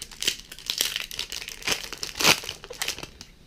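A Dominaria Magic booster pack wrapper being torn open and crumpled close up, a continuous, busy crinkling of foil with a sharper tear in the middle. No speech.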